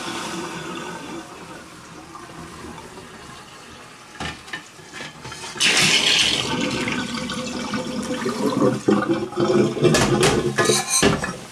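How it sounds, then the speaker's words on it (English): Water drains out of a sink after lye cleaning, starting quiet then swelling into a close, gurgling, rushing flow with clinks and splashes that continues to the end. "So let's just drain this out."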